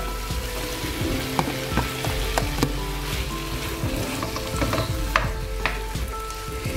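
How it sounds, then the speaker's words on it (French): Food sautés in a covered pan before tomatoes go in, a steady close sizzle with scattered pops and light clicks throughout, no voices. "Je couvre, je laisse un peu revenir avant de mettre mes tomates"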